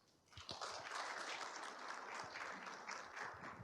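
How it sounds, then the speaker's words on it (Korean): An audience at a Korean workplace innovation case-sharing forum applauds a company presenter, dense continuous clapping that swells quickly and holds steady, heard at a distance and fairly faint. "뜨거운 박수 부탁드립니다"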